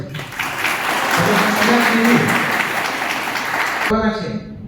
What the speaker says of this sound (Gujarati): તાળીઓથી વધાવશું આપણે